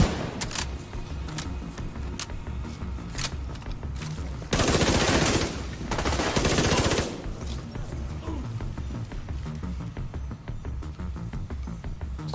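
Bursts of rapid automatic gunfire in The Division 2 video game, steady rattling volleys with a louder, denser stretch in the middle against a continuous game soundscape.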